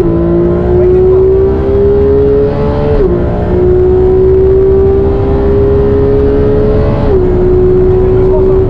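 A Porsche GT3 RS engine pulls hard while driving, loud and close, its pitch climbing steadily, then dropping at two gear shifts before rising again.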